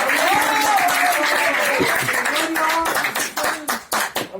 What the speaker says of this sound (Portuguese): ocupe a sua mão e dá uma salva de palmas para Jesus